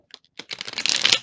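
Oracle cards being riffle-shuffled up close, a few soft flicks building into a quick, crisp flurry.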